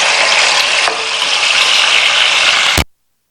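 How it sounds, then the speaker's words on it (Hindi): Mutton frying in ghee with green cardamom for an Eid mutton qorma gives a loud, steady, close sizzle that holds evenly for nearly three seconds, then cuts off abruptly into silence. "ये देखिए हम इसको भून रहे हैं।"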